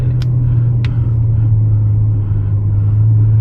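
A Ferrari 812 Superfast's 789 hp V12 engine rumbles deep and steady close by, low and constant, with a couple of brief faint clicks early on.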